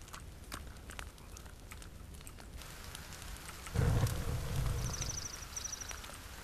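Rain falling in the survival game The Forest, a steady broadband patter throughout, with a heavier, louder downpour swelling in around the middle and a faint high chiming tone near the end.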